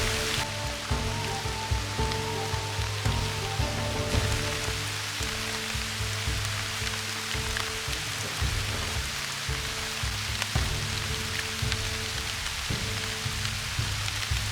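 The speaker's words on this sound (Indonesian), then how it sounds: "Lagi dan lagi, hujan pun kembali turun." Heavy rain pours steadily in a forest near a shelter, a dense continuous hiss of drops on leaves and surfaces, loud and close, with a low rumble underneath and no voices.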